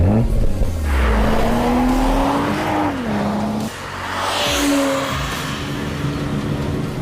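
A BMW 4 Series Coupé driven hard on a test drive, its engine revving up and down through gear changes with tire squeal, loud and close throughout.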